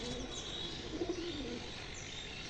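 Pigeons being prepared for flight training, soft low cooing in a short warbling phrase near the middle, faint against a quiet outdoor background.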